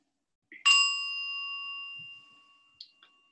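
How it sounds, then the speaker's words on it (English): A single meditation bell is struck at the end of a guided practice, a clear bright ring that sustains and fades slowly in silence, followed by a couple of soft faint taps. "hear the sound of the bell"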